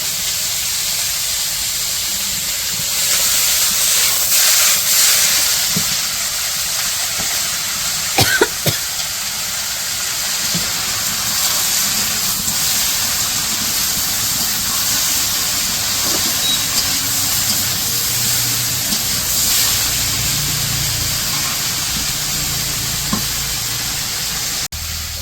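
Water lily stems sizzling in a pan with already-fried fish for a traditional village deshi fish curry, a steady broad hiss with crackling throughout, close and continuous with no talk.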